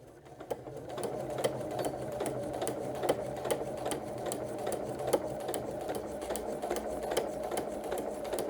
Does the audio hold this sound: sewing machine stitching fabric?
yes